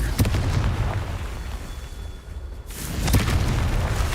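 Spell blasts in the Hogwarts Legacy video game go off as loud booming explosions, one near the start and another after a quieter stretch near the end, with fizzing and rumbling between them.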